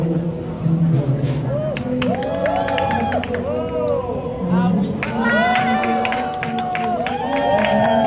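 A street crowd at a Hongdae dance performance claps and cheers, a steady wash of applause and chatter with high whistles and shouts rising above it.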